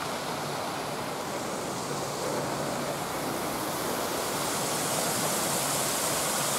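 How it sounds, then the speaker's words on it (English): A small waterfall in Japan pours down a rock face, giving a steady, even rush of splashing water that holds without a break, with no voices. "it's water coming down the rock"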